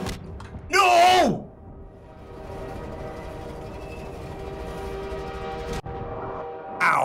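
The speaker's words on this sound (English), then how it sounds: "I hit the train, so it wants me to die" A train horn blares in the Half-Life 2 video game, a loud blast early on, then a sustained rumbling train passage with a sharp impact thud near the end, with a player's voice over it.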